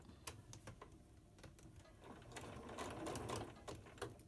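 A sewing machine stitches quilt blocks for an orange peel and stitch-and-flip pattern, running in short bursts, then a steadier whirring pass, close and moderately loud with no talking.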